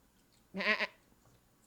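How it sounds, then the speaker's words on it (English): A mountain goat bleat sound effect plays once, a short nasal wavering call lasting under half a second against a quiet background. "The mountain goat was a pretty good choice."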